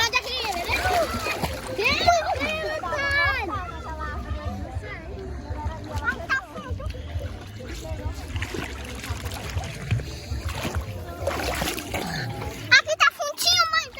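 Water splashes as children swim in a river in Maranhão, with irregular sloshing and splatters, close by, under frequent excited children's voices.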